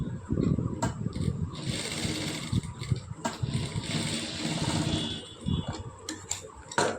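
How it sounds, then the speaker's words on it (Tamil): Sewing machine stitching a seam across fabric, a dense rapid mechanical chatter with ticking clicks, running close and steady through the whole stretch with brief pauses, no talking. "மறுபடியும் இந்த சைடு அந்த சைடும் வந்து தையல் போட்டுக்கலாம்."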